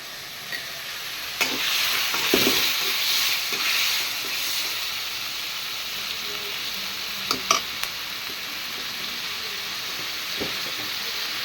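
Tomatoes and salt sautéing in a pan for a paneer egg curry: a steady soft sizzle with a few clinks and stirring scrapes from a utensil, fairly close.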